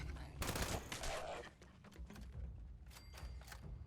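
Heavy automatic gunfire from the video game Fallout 76, a loud sustained burst of rapid shots followed by scattered bursts and a few sharp single reports with fading echoes.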